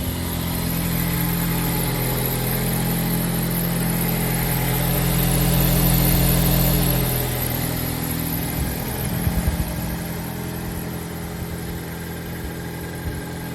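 A Mazda 6 car engine idles while stationary, a steady low rumbling drone heard close by with a slight swell midway and faint clicks later, no voices over it.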